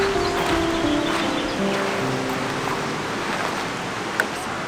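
Small waterfalls and little water mills in a park on São Miguel in the Azores, heard as a steady, soft wash of running water with faint background tones and a brief click near the end.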